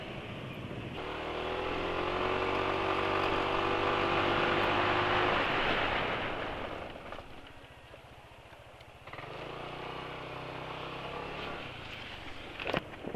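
Traffic on a busy road passes close by, with a loud vehicle engine swelling and fading over several seconds, followed by quieter engine rumble and another vehicle approaching at the end.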